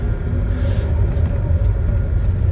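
A flood-damaged Saab 9-3 SE with a five-speed manual and a turbo engine reverses out of a driveway, giving a close, steady low engine rumble with no break.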